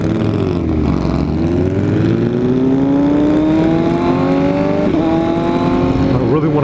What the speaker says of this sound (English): Dude, don't rev like that, because I was about to gun it.